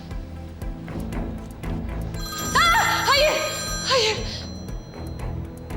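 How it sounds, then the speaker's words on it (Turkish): A mobile phone rings with a repeating melodic ringtone, rising in bursts over a steady background, while people talk nearby in Turkish. "Telefonunuz çalıyor Bora Bey açın."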